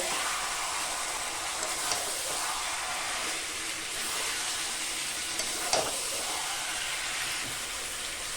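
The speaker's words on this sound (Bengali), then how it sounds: "মাংসটা কিন্তু আমি একদম হাই ফ্লেমেই মাংসটাকে কষিয়ে নেব" Mutton sautéing in a pan over a high flame for a Bengali mutton curry, giving a steady broadband sizzle with a few faint clinks of stirring, alone without talk.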